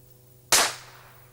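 An air pistol that needs a separate charging unit fires a single sharp, close crack that fades into a short decaying hiss, with no voices.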